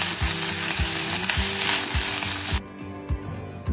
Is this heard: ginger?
yes